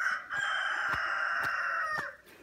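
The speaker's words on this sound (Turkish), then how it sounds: "Horoz yine gelmiş ya." A rooster crows once in a long, drawn-out call on a village farm, fairly close and clear, with a few faint sharp knocks in the background and no talking.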